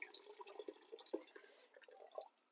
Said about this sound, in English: So let's add a little more from my kettle.